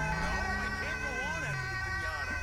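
An ambulance siren in the video game GTA 5 wails in rising and falling sweeps at a steady, fairly loud level amid traffic noise, with someone talking over it.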